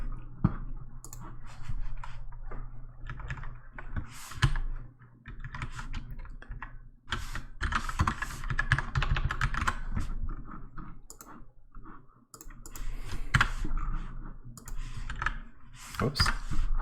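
Continuous typing on a computer keyboard during C++ programming work, with irregular bursts of close, crisp key clicks, brief pauses and a few heavier keystrokes, with no talk.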